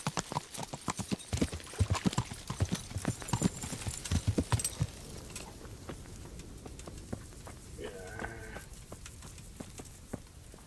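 Horse hooves clip-clop in a steady trotting rhythm in the medieval game Kingdom Come: Deliverance, loud and close at first, then fading into a quieter ambient stretch with a faint murmur.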